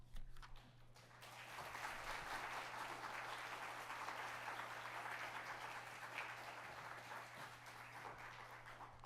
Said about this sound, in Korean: 목사님이 나오실 때 큰 박수로 맞이하도록 하겠습니다.